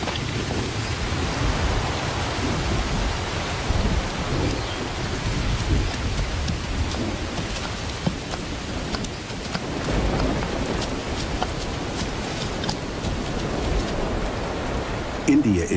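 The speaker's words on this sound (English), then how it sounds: "Nearly 10 inches of rain will soak the ground before the monsoon ends" Heavy monsoon rain falls steadily in India, a dense continuous hiss of downpour with low rumbling thunder beneath it, loud and unbroken throughout.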